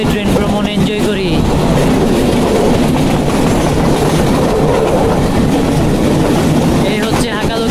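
Parabat Express train from Sylhet to Dhaka rolling along the rails past haor wetlands, heard from on board as a loud, continuous rumble with rhythmic wheel clatter and brief voices near the start and end.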